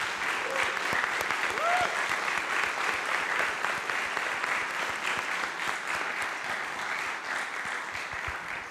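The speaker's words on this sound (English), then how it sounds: "big round of applause to Jiska" An audience at a conference gathering in Berlin gives Professor Jiska a long round of applause, steady dense clapping that fades slightly toward the end.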